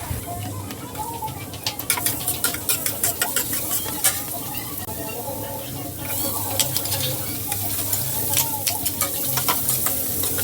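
Garlic and onion sauté together in hot oil for pancit canton, a loud close crackle punctuated by quick rhythmic spatula clicks and scrapes, with occasional faint voice.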